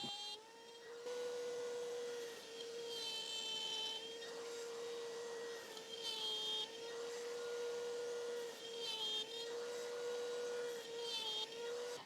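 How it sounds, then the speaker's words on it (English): A router mounted in a router table cuts slots in wooden pieces, a steady loud high whine running throughout with slight dips in pitch as the bit bites into the wood, close and alone. "I'm going to use a router on a router table to cut out those slots"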